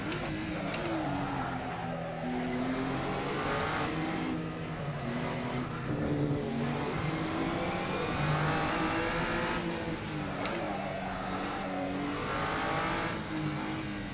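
Race cars in Assetto Corsa, a racing video game, during a league race: sustained engine drone that shifts pitch with gear changes and throttle lifts, other cars close by, steady and fairly loud with no talking over it.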